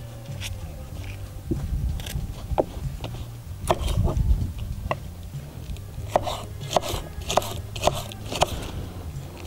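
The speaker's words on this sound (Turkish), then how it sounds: "biberimi de doğrayayım." Knife taps and crunchy cuts through a pepper against a board, irregular and close, with some scraping in between.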